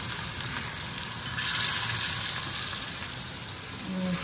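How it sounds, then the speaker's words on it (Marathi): Vadi fritters slipping into hot oil give off a steady, close sizzle and bubbling hiss that swells briefly midway and then settles into even frying. "वड्या जातील तेलात"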